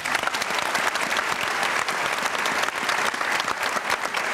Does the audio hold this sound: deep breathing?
no